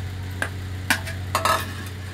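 Finely chopped onions fry in a hot pan with a soft, steady sizzle over a low hum, broken by a few clinks and scrapes as they are stirred.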